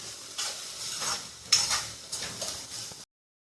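Masala paste of ground tomato, chili, coconut and garlic sizzling and frying in a pan with browned onions, scraped and stirred with a utensil in steady strokes, close and moderately loud, ending in sudden silence.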